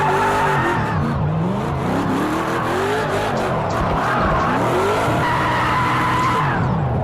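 Chelsea DeNofa's Ford Mustang RTR Formula Drift car drifting in Project Cars 2, with loud continuous tire squeal and skidding over a roaring, revving engine that swells and dips across the slide.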